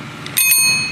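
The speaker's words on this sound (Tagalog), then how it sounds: "See, there's a bell. You just, twist it." A twist-type bell on a brand-new bicycle rings once up close, a bright metallic ding that sustains and slowly fades over a low background hum.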